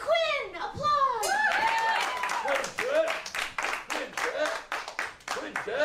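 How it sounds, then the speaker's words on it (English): An audience claps and cheers at a live comedy show at The Comedy Store, with loud whoops and shouts over steady applause that tapers into scattered claps. "And now, keeping it going with Quinn. Applause"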